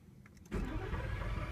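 A Lamborghini Gallardo engine cranks and fires up abruptly after a moment of quiet, then settles into a deep, steady rumble.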